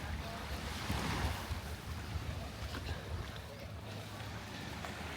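Sea waves wash at Koh Phi Phi on a calm morning, a broad steady surf rush with wind noise and a slight swell partway through.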